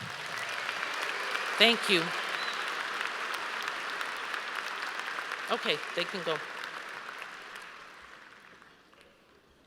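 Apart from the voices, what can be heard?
audience applause at graduation ceremony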